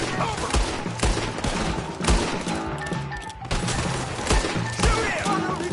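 Rapid gunfire from a video game shootout during a wagon escape, with bursts of shots and crashes filling the whole stretch, and faint voices mixed in.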